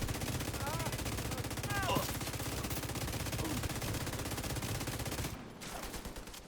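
Sustained automatic gunfire in a video game, dense rapid bursts running continuously at steady volume under excited voices shouting, then thinning out near the end.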